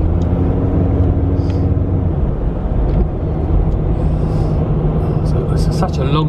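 A car driving on a road, a steady loud rumble of road and engine noise throughout, with faint tonal hum early on and a few brief sounds near the end.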